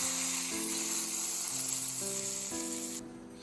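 Mustard seeds, curry leaves and dry red chillies sizzle in a little hot oil for a sambar tempering, a steady close hiss that runs throughout with a soft stepped melody beneath, fading near the end.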